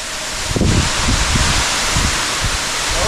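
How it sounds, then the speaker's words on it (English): Wind blowing through a deep river cave beside a 280-foot waterfall, a steady broad roar with low gusty buffeting against the microphone throughout. "You feeling that wind, man?"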